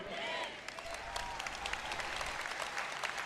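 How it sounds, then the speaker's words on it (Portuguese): An audience at a church sermon applauds in a dense, sustained patter of many hands clapping, fairly loud and filling the room, with a faint voice underneath. "Tem uma senhora aqui na frente que bate palmas quando eu falo essas coisas"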